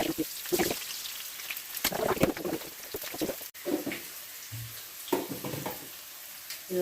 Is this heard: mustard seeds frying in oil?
yes